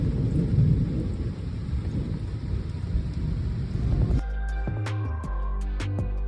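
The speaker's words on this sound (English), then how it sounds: "then the storm came later on, guys. This is what it looked like from our room." Thunderstorm with heavy rain heard from a hotel room in Italy, a deep rolling thunder rumble over steady pouring rain for about four seconds, then dripping rain continues.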